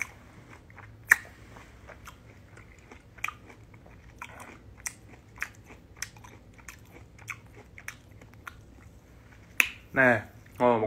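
Tart, sour fruit being chewed and bitten during a casual indoor live stream, giving sparse crunchy bites and mouth clicks spread across the clip, with a brief burst of voice near the end.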